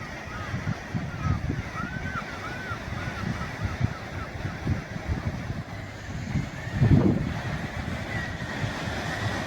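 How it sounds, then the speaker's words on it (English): Seabirds call in a dense chorus at coastal cliffs, a steady wash of overlapping cries under wind buffeting the microphone and low surf, with brief louder calls breaking through. "Very busy with birds."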